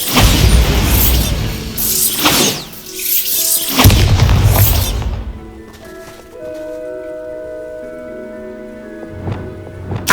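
Bombarda spell blast in Hogwarts Legacy on Xbox Series S: loud booming explosions with crashing debris in the first half, then a quieter stretch of ringing magical tones and rumble before another burst near the end.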